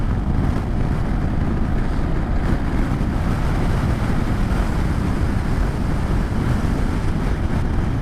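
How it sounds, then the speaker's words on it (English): Strong wind buffets the microphone in a continuous loud rumble near Chamberlain, South Dakota, steady and roaring throughout, with no voices heard. "Oh, it's windy."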